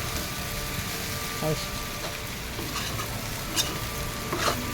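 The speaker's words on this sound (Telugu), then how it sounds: "కొద్దిగా వేగాలి బంగాళదుంప" Potatoes frying in a home kitchen pan give a constant, dense sizzle throughout, with a few light stirring knocks and scrapes rising briefly above the hiss, close and fairly loud.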